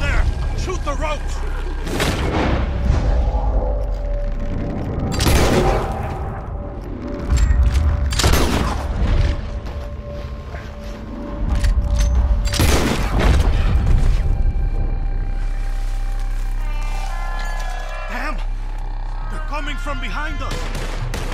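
A shootout in Red Dead Redemption 2 brings repeated loud gunshots and booming blasts, some in bursts and others spaced apart, over a rumbling game backdrop while people shout and talk throughout.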